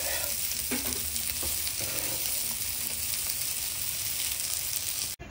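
Fish frying in hot oil in a pan, a loud, continuous close-up sizzle and crackle with occasional stirring scrapes, no voices.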